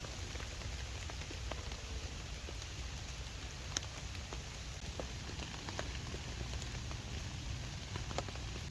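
Steady rain patters on a Vango Nevis 100 solo tent during a wild camping trip, a dense even hiss broken by scattered sharper drops, with no voices.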